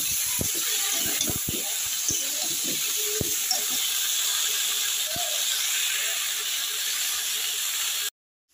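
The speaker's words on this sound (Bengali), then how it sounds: "এখন আমি এইভাবে এগুলোকে নাড়াচাড়া করবো, করে ভেজে নেবো তরকারিগুলো" Vegetables sizzle in a hot pan with turmeric, a steady broadband hiss running throughout while scattered scraping knocks from stirring punctuate the first half, then the sound cuts off abruptly near the end.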